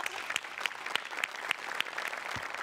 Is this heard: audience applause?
yes